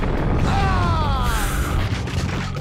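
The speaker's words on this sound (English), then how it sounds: "Too many grenades being thrown." Grenade blasts in the video game Max Payne, a loud continuous roar of booming explosions and crashing debris that fills the whole stretch, with a faint voice underneath.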